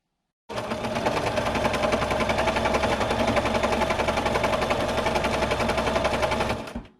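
A sewing machine runs steadily at speed while free-motion quilting fabric gift bags, a loud, continuous mechanical whirring and rapid needle chatter lasting about six seconds before stopping abruptly.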